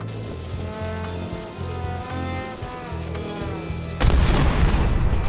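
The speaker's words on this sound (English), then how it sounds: "Ready for cannon firing." Cannon firing in the game Return to Monkey Island: a low droning buzz with pulsing tones, then one sudden loud blast near the end, noisy and sustained.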